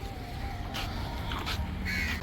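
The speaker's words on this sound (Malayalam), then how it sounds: "എന്നിട്ട് ഒരുപാട് കാക്കകൾ ഇവിടെ വെയിറ്റിംഗ് ആണ്" Several crows caw a few times at a distance over a steady outdoor background hum.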